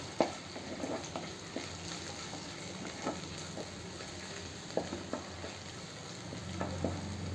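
Jackfruit seeds and snake gourd stir-fry in a hot pan, a steady close sizzle with scattered scraping stirs and small pops throughout.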